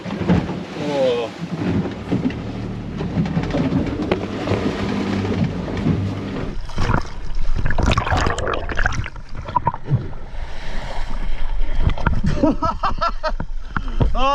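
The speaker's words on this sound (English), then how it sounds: "Oh, this boat is getting thrown around." Boat tossed about on choppy sea off remote Australia: loud crashing water, sloshing and heavy thuds against the hull that build and become rougher toward the end, with brief voices mixed in.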